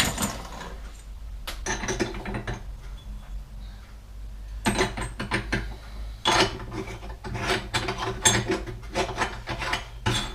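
A meat grinder grinding meat for dumplings: coarse, continuous mechanical grinding and rasping, churning steadily for about ten seconds with brief louder crunching bursts in the second half.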